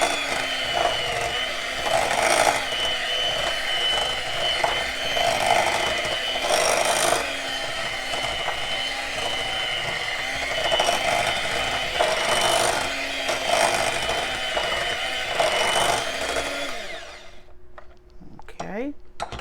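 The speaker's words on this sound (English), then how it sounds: "Mix it well together." Pimento cheese ingredients stirred together in a bowl, giving a continuous close scraping and rubbing with periodic stronger strokes that stop abruptly near the end, leaving quiet.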